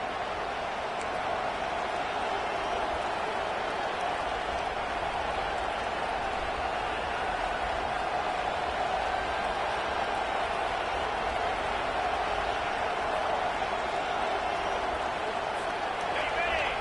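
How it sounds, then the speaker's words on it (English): Stadium crowd noise in the NCAA 25 college football video game, a steady dense roar of a large home crowd that holds at one level throughout, with a commentator's voice under it. "This crowd bringing the energy and noise early."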